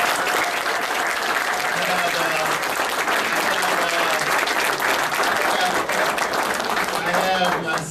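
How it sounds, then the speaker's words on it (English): A crowd at a political campaign event for Kendrick Meek claps in loud, continuous applause that holds steady for the whole stretch, with voices faintly audible underneath. "Leslie, we can give her a round of applause."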